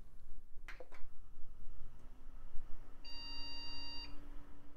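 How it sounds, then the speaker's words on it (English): A couple of sharp clicks, then a single sustained electronic beep from a 2000s Micron computer, a slow-beep RAM error code, rings out over a low background hum. "Slow beeping, that's RAM."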